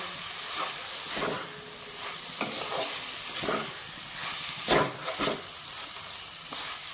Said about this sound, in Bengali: একদম হালকা হাতে নাড়িয়ে চাড়িয়ে নিতে হবে যাতে নিচে না লেগে যায়